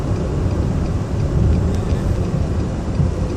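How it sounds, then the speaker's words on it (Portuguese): Steady broadband road and engine rumble inside the cabin of a 2016 Nissan March 1.0 S while driving, loud and continuous with no talking. "o ruído interno que o carro faz continua a mesma, ele continua bem barulhento"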